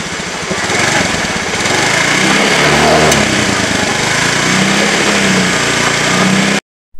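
A restored 2012 Honda Beat scooter engine runs steadily nearby with an even, buzzing hum that holds constant for several seconds before cutting off abruptly.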